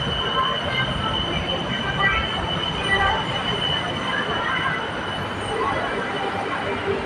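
A BTS Skytrain Silom Line train pulls into an elevated station platform in Bangkok in the evening, with a steady loud rumble and sustained wheel squeal and hiss throughout.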